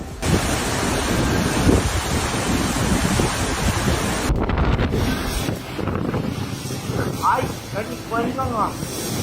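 Strong typhoon winds at landfall on the coast near Yangjiang, China, roar loud and continuous with a heavy, gusting rush close to the microphone, shifting partway through into buffeting wind with rougher turbulence.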